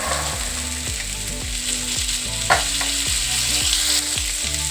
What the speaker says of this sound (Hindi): मसाले के साथ मटर को अच्छे से फ्राई करेंगे